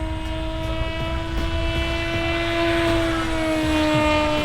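A custom VSpec RC airplane flies under less than half throttle, its electric motor and propeller holding a steady, continuous whine that stays fairly close and even throughout, with no talking.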